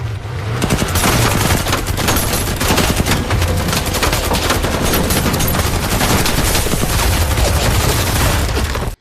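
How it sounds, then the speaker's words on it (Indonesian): Dense, loud gunfire crackles without pause in a firefight with Russian soldiers, shots overlapping in rapid bursts close by. "Tanpa banyak bicara, kontak senjata pun terjadi."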